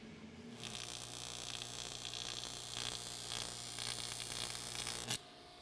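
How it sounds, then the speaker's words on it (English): Welding on worn blades being built back up to shape: a steady electric buzz and crackle with a constant hum, running continuously for about five seconds before cutting off abruptly. "now it's ready for welding."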